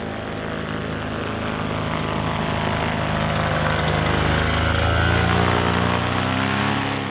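A paramotor engine rolling down a taxiway for takeoff gives a loud, steady propeller drone that builds slightly in pitch and strength throughout, alone with no voices.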